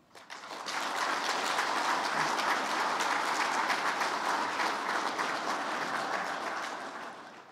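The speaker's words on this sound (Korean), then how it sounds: "지금 박수는 그렇게 하시겠다는 약속으로 받아들이겠습니다" A large crowd at a business New Year gathering applauds in a dense, even wash of clapping that swells in quickly, holds steady for several seconds, then fades out.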